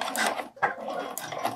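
Sewing machine slowly stitching hook tape onto a bralette near the edge, a close, loud whirring run with a brief stop midway before the stitching resumes, no voices.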